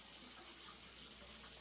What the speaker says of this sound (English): this is another method we do, is just a water test.